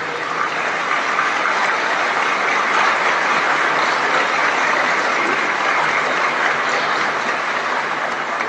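Strong applause for police officers being promoted at a formal promotion ceremony: a continuous, even wash of clapping from a large crowd, holding for several seconds with no speech.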